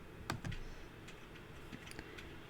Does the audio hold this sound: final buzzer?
no